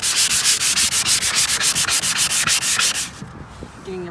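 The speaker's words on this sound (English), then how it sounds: "So I do have a sanding block. There's not much to really sand, but I am just kind of coming through" A sanding block rubs over a plastic pool slide in quick, even back-and-forth strokes, about six per second and close up, for three seconds before the scraping stops and leaves faint handling sounds.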